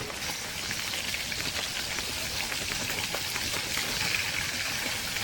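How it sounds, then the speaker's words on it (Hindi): Steady rain patters down at a night camping and fishing site while fish cooks slowly over a low fire, a dense continuous hiss of drops on surfaces that runs for several seconds without any voices. "और बारिश ऑलरेडी हो रही है।"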